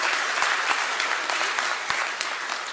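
An audience at a cooperative fair claps steadily to welcome the Chief Minister, a broad continuous wash of applause with individual sharp claps standing out, no voices heard.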